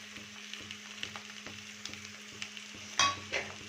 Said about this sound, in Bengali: এবার ভালো করে এটাকে আলুর সাথে মিক্স করব।